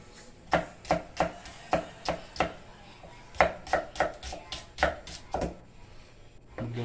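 An onion is chopped with a knife on a board for fried rice, about a dozen crisp, distinct chops in an uneven rhythm, close and clear over a quiet room.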